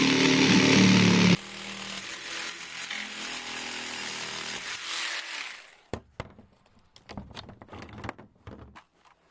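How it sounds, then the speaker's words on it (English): Jigsaw with a fine blade cutting a grid panel for a log store, a loud buzzing whine that runs for several seconds and stops, then knocks and clatter as the pieces are handled. "The jigsaw did a good job of cutting it and made it quick."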